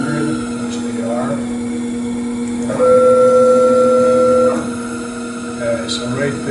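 A CNC lathe spindle spins at 1500 RPM, a steady close mechanical hum with a tonal whine that rises briefly in pitch and loudness midway, then settles back.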